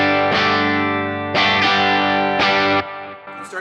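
An electric guitar's bridge humbucker runs through a Kemper amp profile and is pushed into light breakup. Three loud, close strummed chords ring out and sustain one after another, crunchy and slightly distorted.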